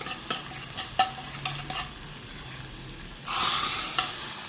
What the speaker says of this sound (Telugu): ఇవన్నీ పోపు మొత్తం ఈ పప్పులో వేసేస్తాం